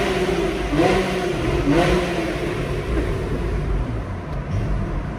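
A Porsche 911 Carrera 4S of the 992 generation with a naturally aspirated engine revs hard twice in quick succession, then settles into a steady loud drone, close by and alone without talk.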